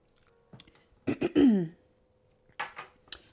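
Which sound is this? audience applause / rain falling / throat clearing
throat clearing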